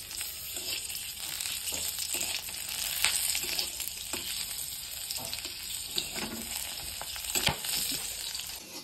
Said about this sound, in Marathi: तरी ही हिरव्या मिरच्या छानशा भाजल्या